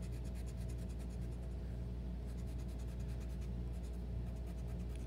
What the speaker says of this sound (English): And we're going to erase this line.